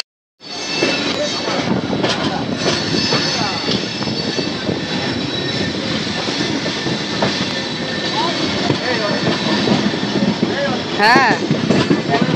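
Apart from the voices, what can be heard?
train departing Kharagpur Junction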